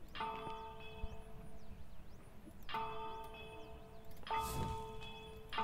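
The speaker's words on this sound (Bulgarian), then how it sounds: "Камбаната." A bell rings three times, each a bright metallic strike with a ringing tone that fades slowly, spaced a few seconds apart over a low background hum in a Ghostbusters game.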